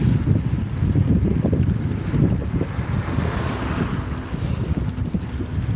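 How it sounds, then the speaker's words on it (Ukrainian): Heavy wind buffets the microphone in a loud, continuous low rumble during a bicycle ride, with no one speaking. "Не знаю як мене чути, тому що вітер дує."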